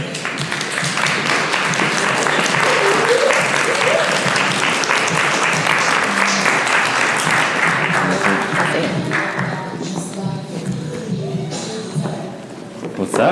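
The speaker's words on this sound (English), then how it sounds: "you guys just please clap and give Jalen Too Tall Woodson a warm welcome as he comes" Audience at a Q&A interview event clapping to welcome guest Jalen "2Tall" Woodson, a dense, loud, steady ovation from a close crowd that thins out and fades toward the end.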